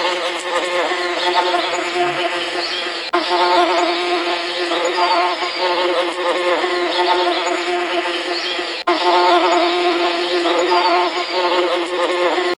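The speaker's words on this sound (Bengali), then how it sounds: "এটা হলো চঞ্চল মৌমাছি, ছোট্ট হলেও অসাধারণ গতিতে ওড়ে।" A bee in flight gives a continuous, close, droning buzz that wavers slightly in pitch and holds steady for over twelve seconds.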